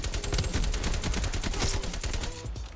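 Sustained automatic AK-47 fire in Call of Duty Cold War, a rapid, steady string of loud, close shots filling the whole stretch with no talk.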